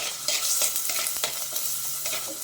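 Ginger garlic paste sizzles and fries in hot oil in a clay pot while a spoon stirs it, giving a steady hiss with scattered scraping clicks and no voices.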